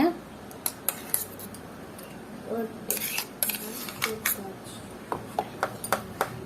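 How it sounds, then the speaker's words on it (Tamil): A spoon clinks and scrapes against a bowl while vegetable puree is mixed into batter, giving a run of sharp, close metallic taps and pings at an uneven pace. "இப்போ நல்லா சேர்த்து கலந்து விடுங்க"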